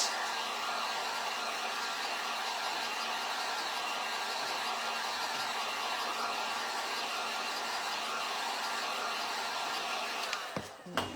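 A hair dryer blows steadily and loudly at close range for about ten seconds while paint dries on a Valentine's gnome, then switches off with a few small knocks.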